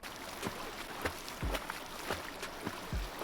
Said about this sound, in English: it does not reduce the noise of the swimming above water. It still makes the same loud splashing noise that we heard before